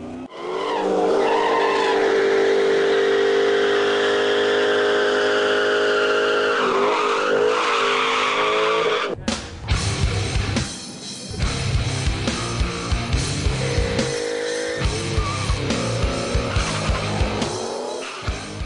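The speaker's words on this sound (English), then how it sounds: "a drag strip where 2 cars race at a time going down a quarter mile" Drag racing cars launch down a quarter-mile strip, a loud sustained engine roar with tire squeal that cuts off abruptly, then gives way to a sharper, choppier stretch of revving and pops, no voices over it.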